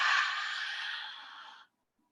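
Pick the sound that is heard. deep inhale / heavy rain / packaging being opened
deep inhale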